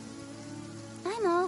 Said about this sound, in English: A downpour. Nothing will get done until it clears.